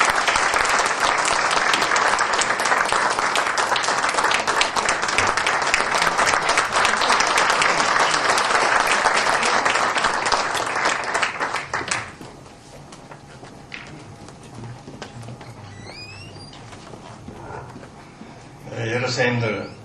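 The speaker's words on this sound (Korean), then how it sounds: "큰 박수로" Big round of applause from a lecture audience welcoming a guest speaker, loud dense clapping for about twelve seconds that then stops abruptly, leaving a quiet room with faint shuffles and a brief noise near the end.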